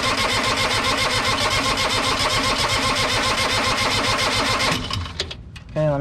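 New Holland LS125 skid steer engine cranking hard with a steady rapid starter rhythm, loud and close, then cutting off into quieter clatter and brief sounds near the end.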